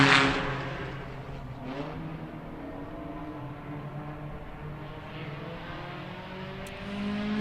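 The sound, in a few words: race car braking hard into a sharp left-hander at a time attack event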